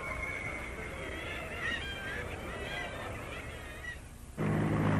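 Seagulls calling over a busy Scottish fish market, a run of loud honking and squawking cries layered over steady crowd and harbour noise, ending with a louder low rumble.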